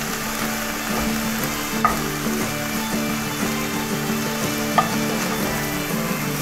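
Ground meat sizzles and fries steadily in a pan, a continuous crackling hiss with occasional soft stirring clicks and scrapes throughout.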